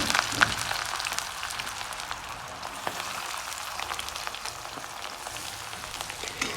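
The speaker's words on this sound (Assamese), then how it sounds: "এতিয়া পিঁয়াজখিনি ধুনীয়াকৈ গেছটো মিডিয়াম কৰি লাহে লাহেকৈ আৰামত ভাজি থাকিব লাগিব" Chopped onions frying in hot mustard oil over medium gas heat, a steady close sizzle and crackle with faint popping, no voices.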